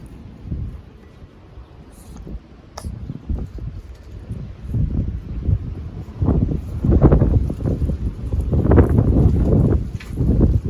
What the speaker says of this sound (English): It is windy out here, guys.